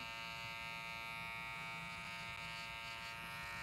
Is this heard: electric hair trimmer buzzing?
yes